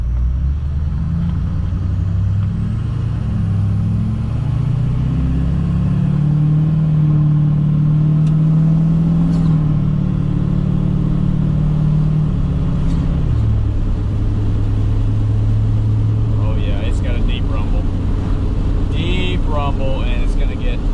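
A Duramax diesel truck with a 5-inch MBRP exhaust idles with a deep throaty drone, then revs up into a loud, rising low roar that holds and falls back, while someone talks over it.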